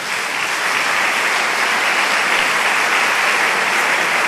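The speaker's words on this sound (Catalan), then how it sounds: "Un aplaudiment molt fort per a ells." A concert audience at a Valencian regional choir gathering gives a choir loud, sustained applause, a dense, even wash of clapping throughout with no voices.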